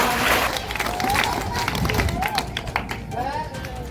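Audience applause at a school event welcoming guests at a district council school in Sirsala, where educational supplies are handed out to students, with steady clapping mixed with crowd murmur and some voices throughout.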